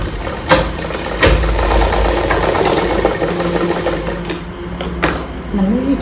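A sewing machine stitches a blouse in a steady close-up whir with a few sharp clicks, running continuously while someone talks over it.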